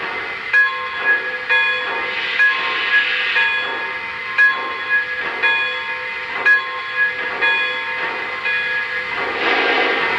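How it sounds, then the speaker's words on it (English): A Lionel O scale Polar Express Berkshire model steam locomotive's bell rings steadily, with clear metallic strikes repeating about twice a second over a continuous background hum. "And here's the bell."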